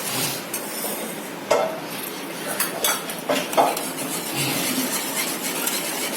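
A spoon stirs milk into yogurt in a bowl, scraping and clinking against the sides in an irregular rhythm of soft rubs and a few sharper knocks, close and steady with no talking.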